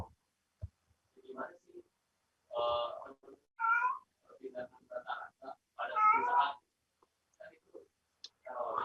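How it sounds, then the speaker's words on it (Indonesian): A cat meows several times in a quiet room, short scattered calls of varying pitch spaced a second or two apart, fairly soft and alone. "Ada kucing."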